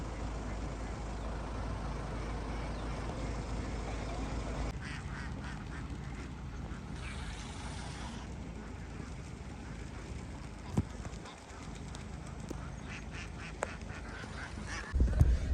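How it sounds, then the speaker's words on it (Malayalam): A flock of farmed ducks on a duck farm in Alappuzha, Kerala, quacks at a moderate distance, scattered calls over steady outdoor background noise, with people talking at times. "നമ്മൾ പടത്തിലെ കണ്ട പോലത്തെ താറാവ് കൂട്ടങ്ങളാ ഫുള്ള് താറാവ് കൃഷിയാണ്"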